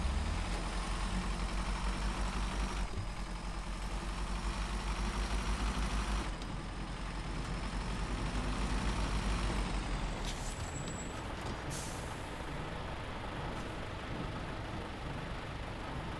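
A truck in SnowRunner idles with a low, steady engine rumble, the tone shifting as it changes load, and a brief air brake hiss near the end.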